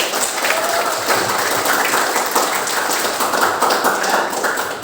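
A school class applauding its groups together: a steady burst of many hands clapping in a classroom, sustained for several seconds at fairly loud level, with no one talking over it.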